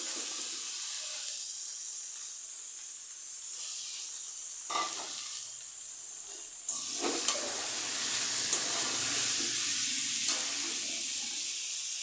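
Boiled banana flower tipped into a hot pan of oil, which bursts into loud, close sizzling and hissing that builds sharply partway through, with stirring scrapes over the steady fry and no voices.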